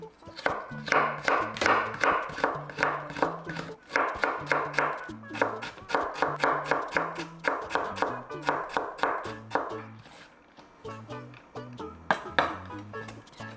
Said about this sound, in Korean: 자 당근은 채 조금만 이렇게 썰어서 넣을게요